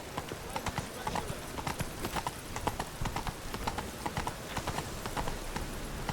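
Roach, a horse in the video game The Witcher III, gallops in a steady, rapid clip-clop of hooves that runs from start to finish. The hoofbeats sound close, and a broad noisy bed lies beneath them.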